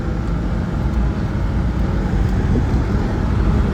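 A Porsche Boxster drives along the road, its engine and tyre rumble a steady low drone heard from inside the car, with no speech.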